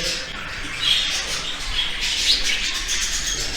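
Budgerigars in a breeding aviary give scattered high chirps and squawks over a constant hiss of background noise, with no voices present.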